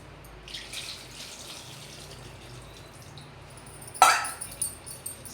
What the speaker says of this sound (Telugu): దీంట్లో కొంచెం నీళ్ళు వేద్దాం